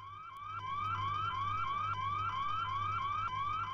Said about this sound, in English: Pull the fire alarm.